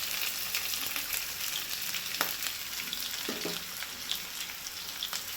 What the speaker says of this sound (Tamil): வெங்காயத்தை லைட்டாக வதக்கிடுவோம்